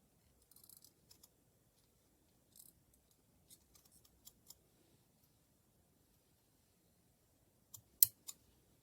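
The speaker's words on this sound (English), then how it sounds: "So then take your scissors and we're going to cut down" Scissors cutting through felt for a sashiko felt bunting windmill kit: a few faint, scattered snips in a quiet room, with one sharper cut near the end.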